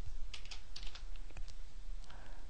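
Keys clack on a computer keyboard in a short, irregular patter of a few soft clicks. The typing is close and quiet over faint background hiss, with no voice.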